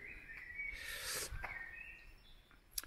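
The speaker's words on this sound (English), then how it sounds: "You might be able to hear some sort of birds." Faint birds call outside an abandoned church near its bell tower, with a soft drawn-out chirp and a few brief tweets over quiet ambient noise.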